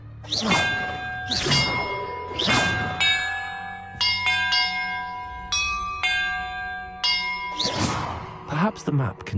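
Bells chime in the Hogwarts Legacy video game on PS5: a series of clear metallic strikes, some heavy and clanging, others higher and quicker, each ringing out with a long tone, loud and alone.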